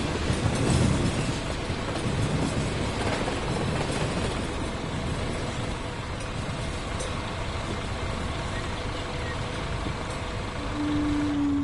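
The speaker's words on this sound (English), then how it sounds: "There's the train." A train passes close by with a loud, continuous rumble and rattle that holds steady across the whole stretch, with no one talking.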